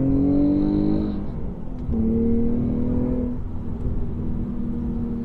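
An Infiniti G35's exhaust, with stock headers, ISR test pipes and HKS axle-back, drones steadily from inside the cabin, pitch rising and falling gently with light acceleration, a low continuous hum throughout.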